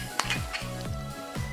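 Precooked potatoes fry in olive oil in a pan, giving a steady close sizzle broken by a few faint clinks and scrapes of stirring, with no talking.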